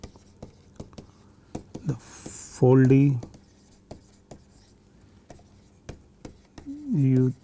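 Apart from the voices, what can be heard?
writing equations by hand during a lecture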